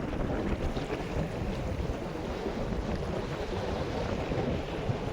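Cool wind blowing outdoors while fishing on a cloudy day, a loud constant rumbling buffet of wind across the microphone that fills the whole stretch.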